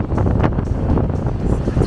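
Strong wind gusts roar against the microphone near a dock at night in Labadee, Haiti, a dense continuous rumble without pauses.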